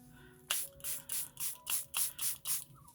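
A spray can mists onto an art journal page in about eight short, even hissing bursts, close and fairly quiet, with a faint tone in the background.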